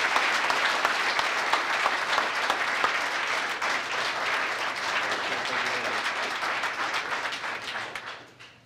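A police awards ceremony audience gives loud, sustained applause for an officer's Chief's Award, dense clapping throughout that fades out at the end.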